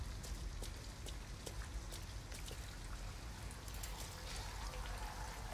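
Steady rain falls in the video game Detroit: Become Human, a dense continuous patter with scattered drops, even and moderately loud outdoors with no talking.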